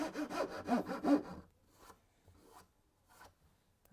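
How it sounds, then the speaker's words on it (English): Hand file rasping along the edge of a wooden sword, a run of steady back-and-forth strokes up close for about a second and a half, then only faint scattered scrapes. "One thing you'll notice when you're filing, the file teeth get gummed up with sawdust."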